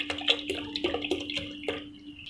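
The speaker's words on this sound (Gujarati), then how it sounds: "ઠંડુ પાણી નાખવાનું છે." Cold water from the fridge splashes into a bowl of cream being prepared for homemade ghee, a brief burst of pouring with a few sloshing spurts.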